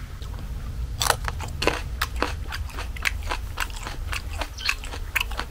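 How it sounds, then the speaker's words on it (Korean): Crisp, close crunches as someone bites into and chews a cheongyang chili pepper, a steady run of sharp snapping bites over about five seconds with no talking. "고추에 고추를 찍어 먹다니 참 이상한 조합이긴 하지만"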